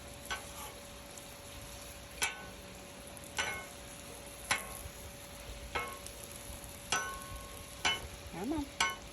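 Eggs with butter and cheese cooking on a Blackstone griddle at medium-low, a soft steady sizzle broken by sharp scraping clicks of a spatula every second or so.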